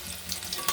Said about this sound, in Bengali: এবার তেলটা গরম হতে দেবো। দেখুন বন্ধুরা, এবার পটলগুলো আগে ভেজে নেব।